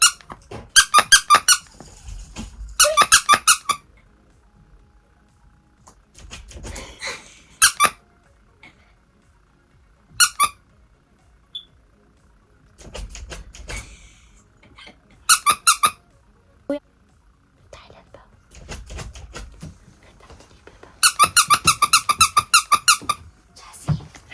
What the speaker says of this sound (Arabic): بتحب هيك العاب يلي يطلع صوت بيهم